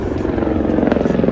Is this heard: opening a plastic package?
no